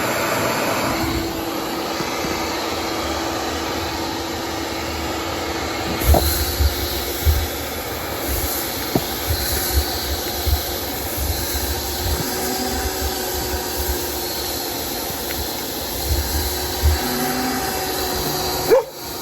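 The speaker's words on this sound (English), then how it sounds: "Turn this on. And I'll start vacuuming it out. It's probably going to be super noisy" Shop vac running continuously as it sucks sand out of a Hayward S244S pool sand filter, a loud steady roar with a few scattered knocks and clunks from the hose and filter, no talking.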